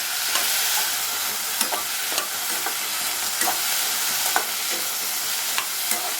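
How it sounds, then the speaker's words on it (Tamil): Brinjal sautéing in a pan for a Tamil-style brinjal chutney, a steady close sizzle of frying with repeated scrapes and clicks of stirring throughout, no voices. "இந்த ஸ்டேஜில் நம்ம கத்திரிக்காய் சேர்த்துக்கலாம். இப்போ இது நல்லா வதங்கணும்."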